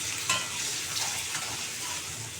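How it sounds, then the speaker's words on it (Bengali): Turnip and egg fry with a little turmeric in a pan, giving a continuous close hiss of sizzling oil with faint stirring, no talking. "এটাকে ভালো করে লাল করে ভেজে নেব"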